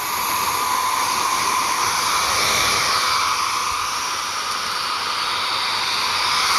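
Brushless fans rated around 40 to 50 cubic feet per minute each, on a BBQ smoker PID controller mock-up, blow a loud, steady rushing whoosh of air that holds for about seven seconds, close up, with no talking.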